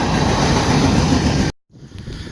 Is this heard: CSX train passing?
yes